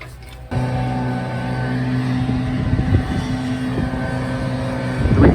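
Three leaf blowers run nearby with a loud, steady motor drone that kicks in abruptly and holds an even, humming pitch with slight surges throughout.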